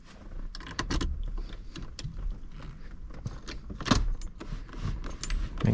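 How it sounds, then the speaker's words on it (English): Car keys jangle and rattle into the ignition of a GM vehicle (Chevy, Pontiac, Cadillac, GMC, Buick or Oldsmobile) after steering wheel work, with close metallic clinks and small mechanical clicks through a few seconds, no talking. "We're gonna one more time put our keys in."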